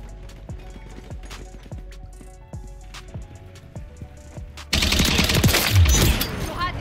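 Rapid beam rifle fire in Call of Duty x Gundam gameplay: a string of sharp repeated shots, then a loud sustained blast of energy fire near the end.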